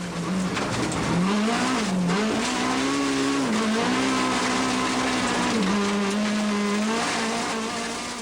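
In-car sound of a Class A7 two-wheel drive rally car on stage 3 of the Tour Natal 2002 rally: a loud, steady engine drone that rises and falls as the driver shifts, with tire noise throughout and no talk.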